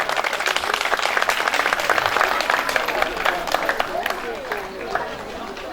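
An audience at a 2016 school last-bell ceremony in Qaxbaş claps in a dense, sustained round of applause that fills the whole stretch, with voices mixed in beneath it.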